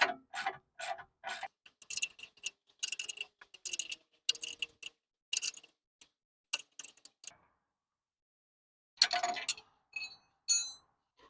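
Ratchet and socket clicks from a 17mm socket tightening the drop links on a 2013 VW Golf R during a Whiteline rear sway bar install, heard as close, irregular bursts of rapid ticking and metallic clinks with short pauses between them.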